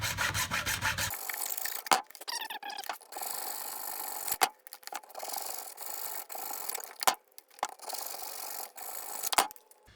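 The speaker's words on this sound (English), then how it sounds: "I'm actually going to cut off some of the support just with a junior hacksaw" A junior hacksaw cuts through a wooden support on a homemade biltong dehydrator box, rough rasping strokes in uneven bursts with short pauses, close and alone.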